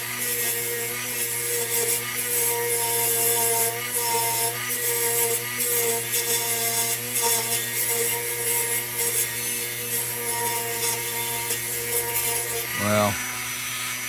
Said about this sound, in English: I'm going to do that with a Dremel right now.